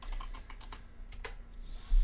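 Someone typing a password on a computer keyboard: a quick run of light, clicky keystrokes, close and clear, ending in a slightly louder thump.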